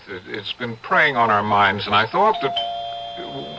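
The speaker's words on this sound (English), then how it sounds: "that's my doorbell" A doorbell chimes twice near the end of an old-time radio mystery drama, ringing out clearly right after a person finishes speaking.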